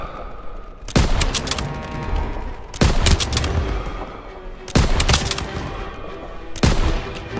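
Gunfire and explosions in the World War II video game Call of Duty WWII, with four loud sharp bursts at a steady spacing, each trailing into a rumbling echo over ongoing battle noise.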